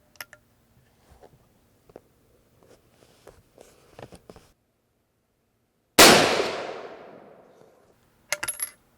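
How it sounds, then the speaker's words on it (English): A .32-40 Winchester falling block rifle fires one sharp, loud shot that rings off. Faint clicks and handling noises come before it, and a second burst of noise follows near the end. "so those are the 10 shots from the brass that we resized"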